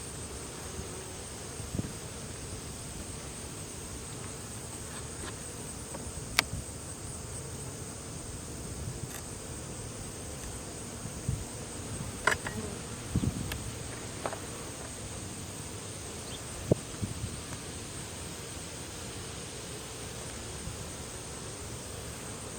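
Honey bees buzz in a steady, faint background drone during a fall hive inspection, with scattered light clicks and knocks from frames being handled. No one speaks.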